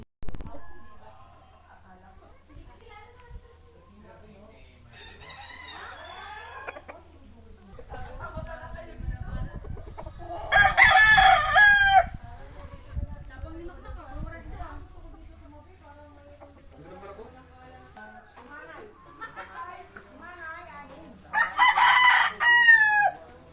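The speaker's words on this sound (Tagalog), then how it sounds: "mga manok talagang quality oh" Fighting-breed roosters crow loudly twice, near and piercing, with hens clucking and soft farmyard chatter and people talking quietly between the calls.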